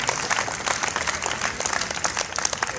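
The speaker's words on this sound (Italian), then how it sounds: "Un applauso al dottor Caro Figlio." An audience claps steadily for a doctor being introduced, a dense and even burst of applause filling the whole moment.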